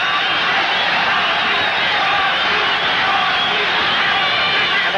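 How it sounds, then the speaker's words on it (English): A dense, loud crowd roar fills an arena at a title-defense boxing match between Salvador Sanchez and Jorge "Rocky" Garcia. It holds steady throughout, with the chanting blurred into the overall din. "And the crowd chanting"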